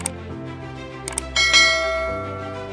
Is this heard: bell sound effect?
yes